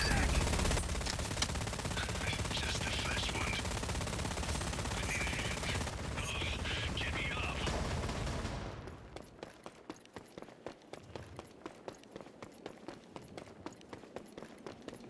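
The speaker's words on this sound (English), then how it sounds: "I was getting shot from behind." Rapid automatic gunfire in a video game fills the first half as a dense, loud burst with overlapping shots, then drops to sparse footsteps and scattered quieter shots.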